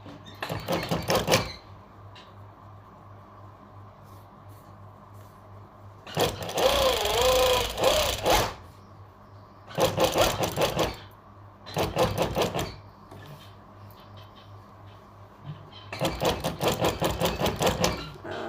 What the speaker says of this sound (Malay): Kita jahit setapak ya.